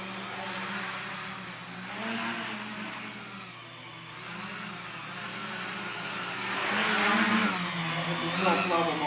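A TeamAHK Rebel quadcopter flies in regular mode with its motors whirring in a steady, droning whine that rises and falls in pitch and grows somewhat louder toward the end, with no voices over it.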